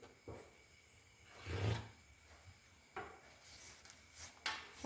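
A marking line is drawn on fabric before cutting, a few faint scratchy rubbing strokes with soft taps between them, close up and quiet.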